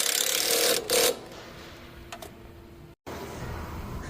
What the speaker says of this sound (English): Then we're going to return down here to this 12mm bolt, and we're going to just tighten that back up.